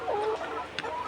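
Laying hens on a poultry farm clucking close by, a short burst of overlapping throaty clucks and one sharper squawk.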